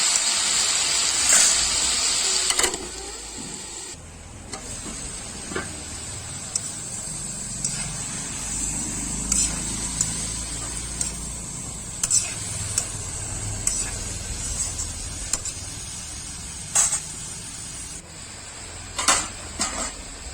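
Coriander, fenugreek and tomato fry together in a hot pan for a Chhattisgarhi vegetable dish, giving a steady close sizzle and hiss with a few sharp clinks and stirring knocks throughout.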